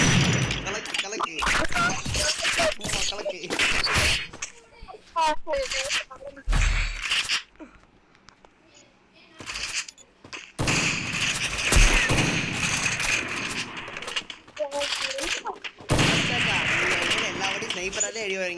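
Sharp sniper shots and other gunfire ring out repeatedly in a friends' custom match of a shooting video game, loud and irregular, with players chattering excitedly over the bursts throughout.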